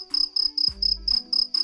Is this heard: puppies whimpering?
no